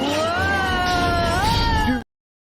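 A played cat meow sound effect: one long, loud, drawn-out tonal meow rising then falling, lasting about two seconds before cutting off abruptly into silence.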